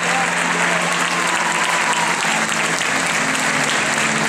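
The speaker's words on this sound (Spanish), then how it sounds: "Fuerte el aplauso renovado para ellos dos." Audience at a fashion show opening for an art, fantasy and tango collection applauds in a dense, steady wash of clapping that fills the whole stretch, with a voice faintly beneath.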